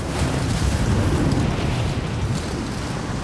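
Strong wind gusting across a mountain summit in a video game, a loud, continuous roar and rumble with surging gusts and no voices.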